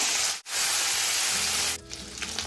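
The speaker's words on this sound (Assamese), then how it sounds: "তেলখিনি একদম পূৰা গৰম হৈছে। মাছ কেইডোখৰ ভাজি লওঁ" Fish pieces frying in very hot oil in a home kitchen, a loud, steady broadband sizzle that drops out briefly, then surges back before settling into a softer bubbling crackle.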